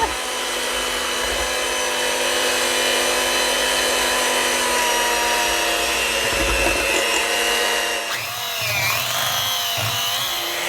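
Electric hand whisk mixing chocolate protein bar batter, a loud, steady motor whine held for about eight seconds, then a shift in pitch as the beaters move through the mix.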